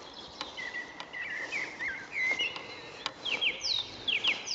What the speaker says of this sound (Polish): Mamy po deszczu i proszę, jak kosy pięknie śpiewają.